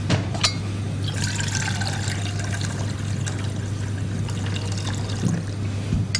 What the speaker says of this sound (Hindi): तो यहाँ सबसे पहले मैं पानी बॉईल करने रख रही हूँ मैक्रोनी के लिए।